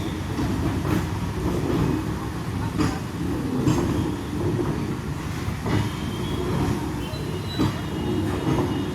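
A train runs along the railway beside a wall on Kozhikode's Collectorate Road, a steady rumble with periodic clattering wheel knocks, moderately loud and sustained throughout.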